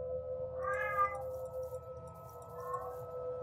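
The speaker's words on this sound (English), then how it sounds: "meowing" A cat meows twice inside the Kenshi game, first a clear drawn-out meow and then a softer, shorter one, over a steady in-game ambient hum and music bed.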